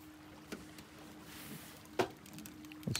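Small motorboat carrying two people and a heavy load approaching across water near a remote off-grid Alaskan cabin, a low steady engine hum running faint and distant under wind and scattered close knocks.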